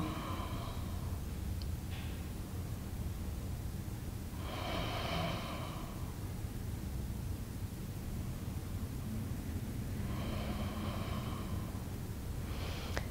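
Slow yoga breathing comes close to the mic as three long hissing breaths, spaced several seconds apart, over a quiet background of low hiss.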